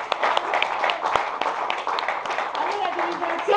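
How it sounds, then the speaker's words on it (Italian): Audience applause at an Italian award ceremony, a steady patter of many hands clapping through the whole stretch, with a voice speaking faintly underneath. "Applaudiamo"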